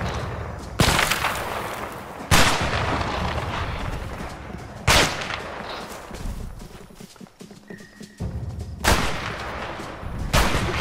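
Gunfire rings out in the video game A Way Out, several loud sharp shots spaced a couple of seconds apart over a busy backdrop of game noise, with no talking.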